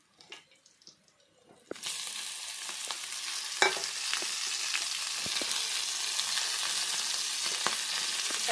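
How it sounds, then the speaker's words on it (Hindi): After a quiet moment broken by faint clinks, rice with peanuts hits a hot pan and settles into a steady close sizzle, with occasional scrapes and taps of stirring. "मेरे लिए ये चावल फ्राई कर दे देते हैं, मूंगफली डाल दे।"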